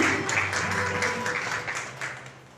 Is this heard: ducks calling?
no